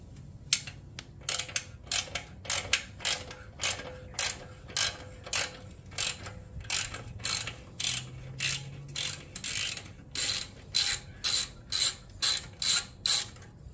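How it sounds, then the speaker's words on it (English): A hex key works loose an exhaust clamp on a 2022 Yamaha MT-10, giving a long run of rapid, regular ratcheting clicks that come in bursts, close and clear, with no talking. "you need to loosen up this clamp, and for that you'll require a 5 millimeter hex head, and just loosen it up"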